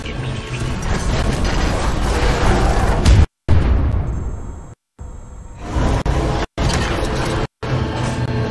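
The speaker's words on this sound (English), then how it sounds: "a series of explosions just weakened the manipulator arm" Explosions in the video game Titanfall 2, dense rumbling booms and crackling blasts, loud and close, broken by several abrupt silent cuts between bursts.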